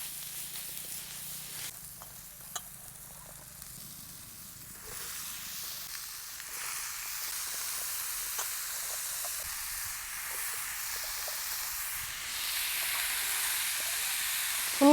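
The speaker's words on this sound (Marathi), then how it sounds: "टोमॅटो चांगलं परतून घ्यायचंय" Tomatoes and spices sauté in a hot pan, giving a steady, loud sizzle and hiss that runs unbroken throughout, with no voices over it.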